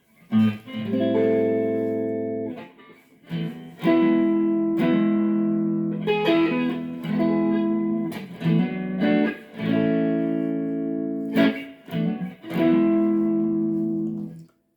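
Warm, clean electric guitar, an ESP LTD on the neck pickup through a Fender Blues Junior amp, playing sustained chords and short phrases, with a gentle reverb tail; rounded, mellow tone, played alone with brief pauses.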